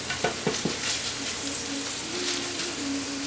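Philly cheesesteak egg rolls fry in hot oil with a steady, close sizzle and bubbling, a few sharp pops and crackles near the start, and no talking.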